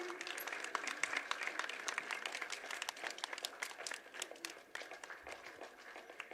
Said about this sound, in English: Kindly clap, please.